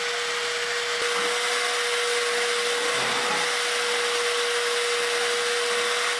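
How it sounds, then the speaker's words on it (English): A vacuum cleaner sucks dust off interior walls during a home painting renovation. It runs as a steady, loud whir for the whole stretch with a faint constant tone, and no voices are heard. "Never thought I would be vacuuming walls, but it's actually quite effective to get all the dust off."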